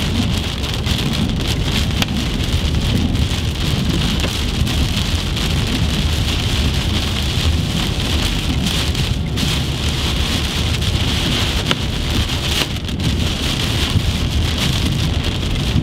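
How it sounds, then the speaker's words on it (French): Heavy rain and strong wind from a storm in Tornado Alley, USA, roar continuously in a dense, loud wash, with gusty rumbling beneath, steady from start to finish without voices. "Je crois qu'on traverse le rideau de pluie"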